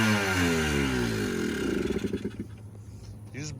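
A 2004 Yamaha Blaster four-wheeler engine revs high and then drops off, close and loud, with a rattling sputter as it dies down.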